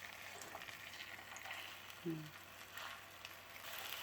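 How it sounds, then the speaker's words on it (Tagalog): Tanigue fish half-frying in a pan over medium heat, giving a faint, steady sizzle throughout with one brief soft clunk partway through. "We will fry our fish just like 4 to 5 minutes in medium temperature so that it will cook gradually."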